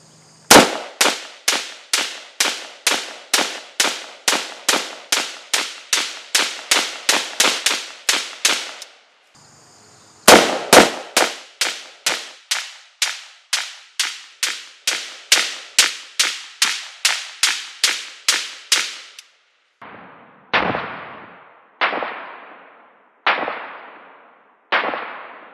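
AK rifle firing from a Korean AK magazine, loud sharp shots in long rapid strings, a brief pause, another rapid string, then a few slower spaced shots at the end.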